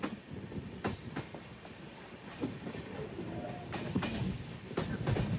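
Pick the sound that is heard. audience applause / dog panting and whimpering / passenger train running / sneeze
passenger train running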